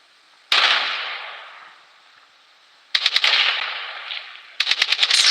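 Defensive turret machine gun in the battle royale game Blood Strike, firing loud rapid bursts in three separate volleys, each followed by a fading ringing tail, with no talking.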